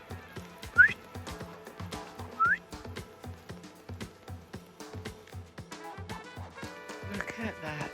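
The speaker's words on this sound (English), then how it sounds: "Didn't say a word. Just a whistle." A person whistles to call rescue dogs: two short rising whistles, each a quick upward sweep, stand out over background noise and low rumbling, spaced about a second and a half apart.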